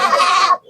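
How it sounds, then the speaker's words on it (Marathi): A desi goat at a village goat market lets out one short, loud, close bleat that fades out after about half a second. "ही देशी शेळी आहे."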